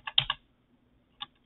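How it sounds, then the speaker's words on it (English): Keystrokes on a computer keyboard during Emacs editing: a quick cluster of three close clicks followed by a pause and one more isolated key press, crisp and near. "keep typing"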